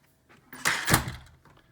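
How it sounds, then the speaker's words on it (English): An interior door swings shut on entering a home theater room, a short solid thump with a brief rattle, fairly close and loud, followed by quiet room tone. "Go ahead and give the door a shut."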